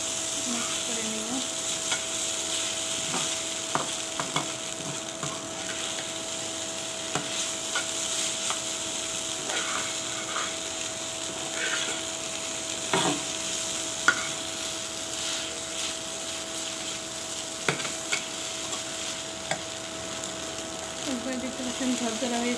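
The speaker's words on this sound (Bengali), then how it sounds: "মিক্স করে নেব" Noodles are stirred and fried in a pan, giving a steady sizzle under scattered scraping and clacking strokes of the utensil, close and continuous.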